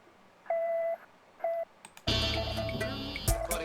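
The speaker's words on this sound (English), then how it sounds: "You get these bleeps, and you get on the final version." Two short electronic bleeps from the video game Secret Agent sound alone, then a dense burst of bright, busy synthetic effects and tones takes over, loud and cluttered.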